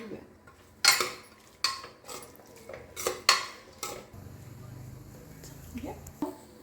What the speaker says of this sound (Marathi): दोन मिनिटं चांगला परतून घेऊया.